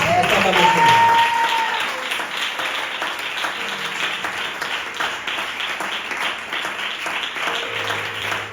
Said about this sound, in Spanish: Un fuerte aplauso al Espíritu Santo